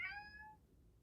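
A cat gives a short, clear meow, loud at first and trailing off within half a second, alone against faint low background hum.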